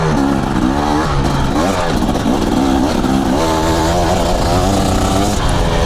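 A stock dirt bike engine revs hard on off-road trails, loud and close, its pitch climbing and falling in repeated bursts as the throttle opens and closes, with rattling clatter under the buzzing exhaust.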